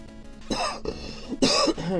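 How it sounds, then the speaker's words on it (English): Two bursts of harsh coughing and throat clearing from a man, close to the microphone, separated by a brief pause. "Didn't mean to spike the audio with coughing or anything."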